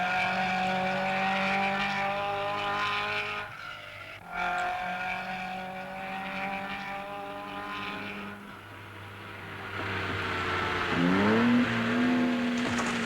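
Rally cars climb the Gavia pass hairpins on a rough surface during the Coupe des Alpes, their engines droning close by with pitch rising and falling through gear changes, then a sharp rising rev near the end.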